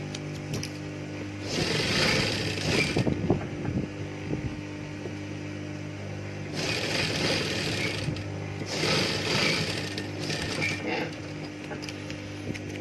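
A sewing machine stitches a Japanese zipper onto stretch fabric, running in several close whirring bursts of a few seconds each, separated by short pauses.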